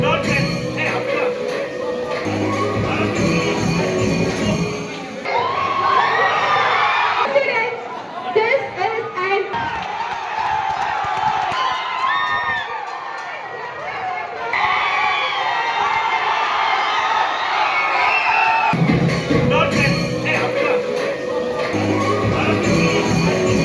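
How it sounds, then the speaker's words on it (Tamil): Students cheer and shout excitedly in an energetic crowd, a sustained wash of young voices and chatter rising and falling with louder bursts throughout. "இதனால் மகிழ்ச்சி அடைந்த மாணவர்கள் உற்சாக கூச்சலிட்டனர்."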